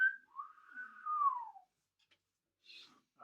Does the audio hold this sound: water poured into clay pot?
no